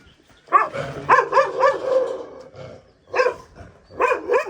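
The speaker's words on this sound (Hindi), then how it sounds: "क्यों भौंक रहा है इनको?" A dog barks at visitors outdoors near a home, giving about five loud, sharp barks in uneven bursts with short pauses between them and no speech.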